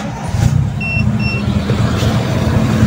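A Toyota 2E engine with an autochoke runs after a cold start, giving a steady low idling rumble with a faint pair of high electronic beeps near the start. It is heard alone, with no talking.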